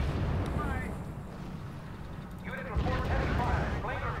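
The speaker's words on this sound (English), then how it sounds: "Our units are under fire." Artillery shells land on units in the strategy game R.U.S.E., a rumbling barrage of low booms and blasts with a radio voice talking over part of it.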